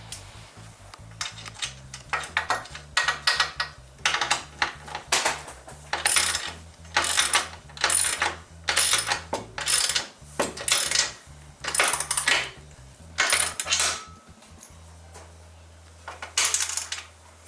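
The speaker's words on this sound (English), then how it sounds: "As as you're tightening this, you can pretty much feel the entire thing come together and become one with the roof." A ratchet wrench clicks in repeated bursts of rapid pawl ticks while the mounting bolts of an MFC Offroad Utili-Rack are tightened onto a vehicle roof. The sound is close and clear, with short pauses between strokes and no talking.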